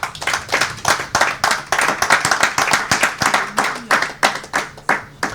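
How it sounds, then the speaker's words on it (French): A church congregation claps together in a fast, steady rhythm to acclaim the Lord, loud and close, the beats ringing out over the room. "Est-ce qu'on peut acclamer le Seigneur?"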